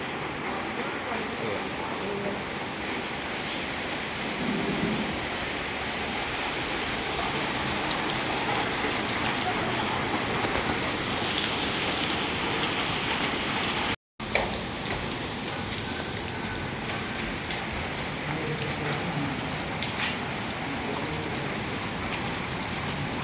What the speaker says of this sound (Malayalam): ചെറുതായിട്ട് മഴ പെയ്യുന്നുണ്ട് കേട്ടോ